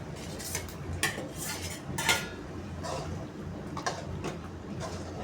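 Fried paneer gets stirred into a masala gravy in a pan, with a spoon clinking and scraping against the metal in scattered close taps over a soft bubbling background, no voices.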